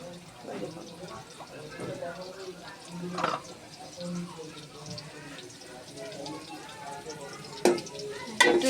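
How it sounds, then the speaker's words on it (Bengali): Onions stirred with oil in a pot for mutton biryani make quiet scraping and low sizzling, with occasional clinks from the pot and a voice talking over it. "নেড়ে নেব পেঁয়াজের সাথে তেলটা একটু মিক্স করে নেব"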